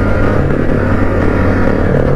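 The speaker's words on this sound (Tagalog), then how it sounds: "Ayan, tiralo na ni Don yung kanyang motor" A converted Cafe 400 bobber motorcycle revs loud and close, its engine roaring steadily and continuously with no voices over it.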